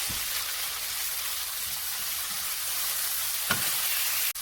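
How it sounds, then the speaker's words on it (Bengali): Chopped tomato frying with onion and garlic gives a soft, even sizzle close by, with a brief stir or tap near the end and no talking. "টমেটোটাকে পেঁয়াজ রসুনের সাথে হালকা ভেজে নেব।"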